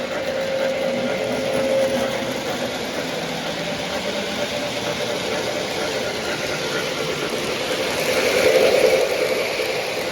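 A K-Line model train steam engine runs steadily on its track, giving a continuous mechanical hum and whir that swells slightly near the end.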